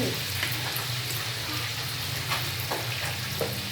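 Fish frying in a pan, a loud continuous sizzle and crackle with occasional sharper spits, steady throughout and without talk.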